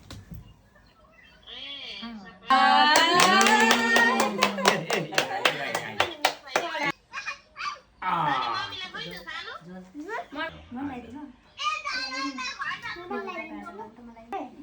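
Hands clapping among a crowd at a Mata Tirtha Aunsi (Mother's Day) gathering, a dense burst of applause lasting several seconds and then thinning out, with children's voices and adults talking throughout.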